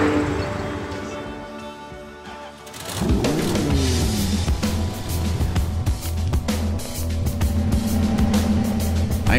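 A 1966 Chevrolet Chevelle SS pulls away and drives off down a highway, its engine note rising after a quieter opening and then holding a steady, fairly loud drone as it recedes.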